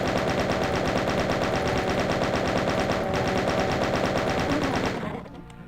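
Rapid, sustained automatic fire from a chaingunner in Doom, a dense loud rattle of closely spaced shots that cuts off near the end into quieter game sounds.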